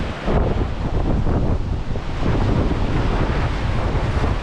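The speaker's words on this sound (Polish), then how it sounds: "Z akcentem morskim, bo dość wieje." Strong wind buffeting the microphone over steady surf on a Baltic Sea beach between a cliff and the water, a loud continuous roar with no voices.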